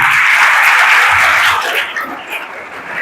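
An audience at a school lecture in Nandedd claps steadily, loud and dense for the first half, then thinning out and fading toward the end.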